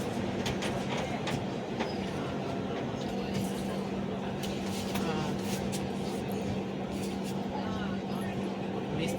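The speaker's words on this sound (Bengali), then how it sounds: "এই তো ট্রেনে বসে" Inside a moving train, a loud continuous rumble with rhythmic clatter and rattling throughout, voices talking over it.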